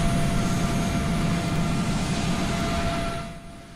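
A United 777 jet taxiing in a flight simulator video game: a loud, steady engine drone with a high whine, easing off near the end.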